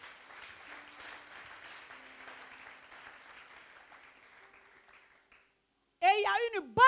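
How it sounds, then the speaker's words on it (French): A church congregation claps for the Lord in a sustained wash of applause that gradually fades away, followed by a loud voice. "Est-ce que nous pouvons acclamer pour le Seigneur?"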